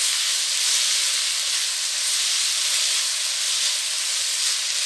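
Pasta with spices sizzles steadily in a pan over a medium-high flame, a constant bright hiss with no breaks and no talking over it.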